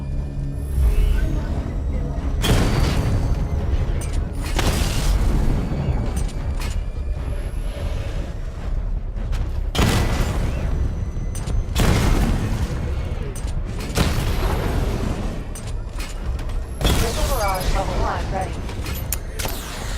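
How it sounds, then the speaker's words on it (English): Missile barrage explosions in Batman: Arkham Knight make loud, deep booms that repeat in heavy bursts every few seconds over a constant rumbling game soundscape. "Destroy targets to charge up weapon energy and activate missile barrage."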